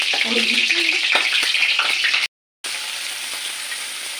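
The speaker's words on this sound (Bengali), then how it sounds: "এবার আমি তেজপাতা ফোড়ন দেবো, দুটো দারচিনি ফোড়ন দেবো, দিয়ে বাকি পেঁয়াজটা কাঁচা কাঁচা অবস্থায় ভাজবো।" Onions fry in ghee with bay leaf and cinnamon, giving a loud steady sizzle throughout with a brief dropout midway and a few faint stirring knocks.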